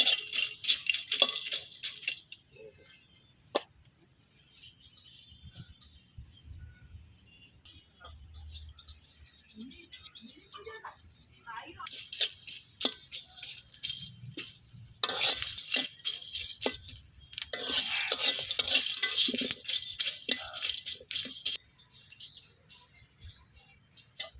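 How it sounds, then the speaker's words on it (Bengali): Dried chanda fish roasting in a wooden pan over low heat, with intermittent scraping and rattling bursts of stirring, loudest in two stretches near the end, separated by quieter sizzling pauses. "চুপটা কাঠ খোলায় আমি চাঁদা শুটকিগুলো সুন্দর করে অল্প আজকে আমি বাইজা নিব।"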